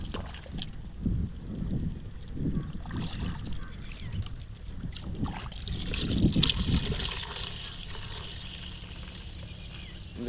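Water poured through a filter into an agricultural sprayer tank in a village field, a close, steady splashing trickle that swells and fades over about ten seconds with no talk.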